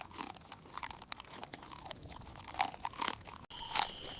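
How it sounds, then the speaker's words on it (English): Herd animals chewing food in the Gran Chaco heat, heard close as wet, crunchy bites and grinding in short bursts, with brief scrapes and pauses. "Wet chewing replaces the dry percussion of the morning as the herd recovers what the midday heat has taken"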